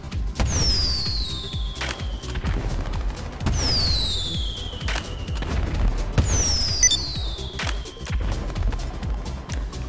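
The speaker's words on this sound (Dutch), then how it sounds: "Dit zijn trouwens de vuurwerk launchers." Firework launchers firing in GTA 5 Online, in a snowy game setting: three separate bursts, each a whistling launch sweeping downward, then a crackling boom, spaced about three seconds apart over a steady low rumble of game ambience.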